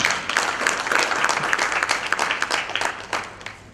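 Conference hall audience at an e-learning summit claps steadily and loudly for a few seconds, a continuous wash of hands with slight fading near the close.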